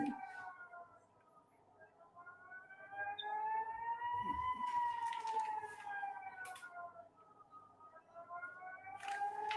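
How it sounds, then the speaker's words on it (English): A wailing siren rises and falls slowly, heard from a distance and fairly faint, with a second siren joining in later. "I'm hearing the sirens."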